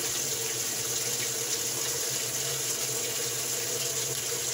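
Clothes washer filling with water, a steady rushing hiss of inflowing water that runs continuously and fairly softly throughout, with no talk over it.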